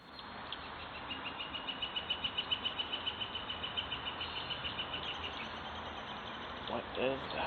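A northern flicker calls with a rapid, even run of about two dozen sharp repeated notes that rise and fade, heard moderately close over a faint outdoor hiss.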